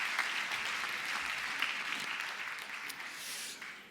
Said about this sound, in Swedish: Det gäller att det är en enorm applåd.